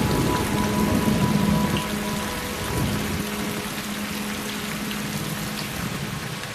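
Steady rain falls across western Tasmania, a dense continuous patter of drops on wet surfaces with a low rumbling undertone, even and close throughout with no voices.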